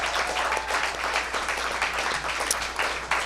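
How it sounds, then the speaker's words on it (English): A podcast audience gives a huge round of applause, dense steady clapping with scattered louder claps, fairly quiet and without speech. "I want to give one huge round of applause."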